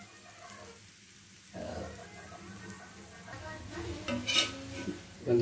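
Ragi adai cooks on a pan with soft clinks and scrapes of utensils and a faint sizzle, sounding close and fairly quiet, with occasional louder clatters toward the end.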